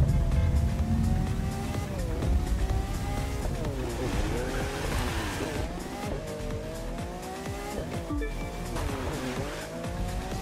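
Cars in The Crew 2 race with engines revving and whining up and down, tires squealing and skidding in close, loud bursts, a continuous roar with no voices on top.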